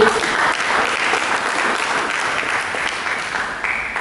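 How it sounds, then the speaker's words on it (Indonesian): A church congregation applauding together, a dense, steady burst of clapping that fills all four seconds at close range. "Mari berikan tepuk tangan."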